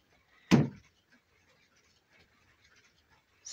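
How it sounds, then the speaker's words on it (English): A single sharp door slam lands early, loud and abrupt, followed by near silence with faint scattered rustles. "the door just slammed shut"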